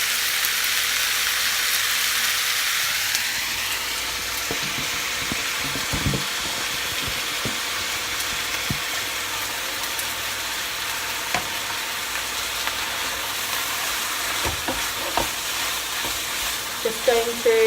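Beef mince frying in a pan, a steady close sizzle with scraping and clacking of stirring throughout and occasional louder knocks of the utensil.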